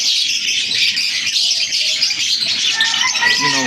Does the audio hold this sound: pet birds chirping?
yes